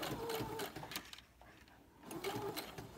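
A sewing machine stitches through the pages of a junk journal, running in quick rhythmic bursts of stitching with a short pause in the middle before the needle starts up again.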